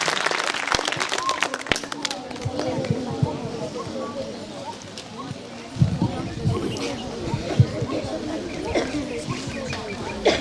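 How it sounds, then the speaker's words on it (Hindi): Audience applause at an outdoor community gathering in the Pandurna forest range of South Chhindwara: a sustained wash of many hands clapping, fairly loud and continuous, with scattered sharper claps and crowd murmur. "ताली बजा दीजिए एक बार।"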